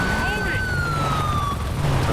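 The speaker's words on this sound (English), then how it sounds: "Turn the siren off." A police car siren wails steadily in the GTA 5 video game, its tone sweeping slowly over a constant rumble of engine and road noise, moderately loud and nearby.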